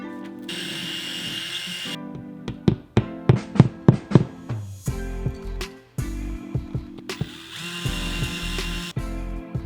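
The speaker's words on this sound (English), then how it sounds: "I drilled a small hole in the wall in order to route them up to the existing in-wall cable management kit." A power drill bores a small hole in a wall, whirring bursts in uneven runs with rapid ratcheting pulses and short stops, close and loud, no voices.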